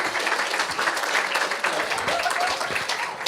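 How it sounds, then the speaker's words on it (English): An audience applauding a speaker being welcomed on stage at a talk, with fairly faint, steady, dense clapping running throughout. "Give a big round of applause for Stephen."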